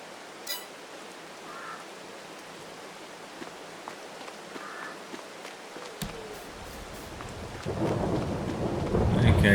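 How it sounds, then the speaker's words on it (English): Rain and rolling thunder in the farming game Farming Simulator 22, a soft steady patter of rainfall with a low rumble building toward the end, heard alone with no talking. "It is still raining."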